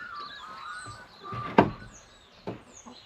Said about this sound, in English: So the chicken door is now opening and closing nicely.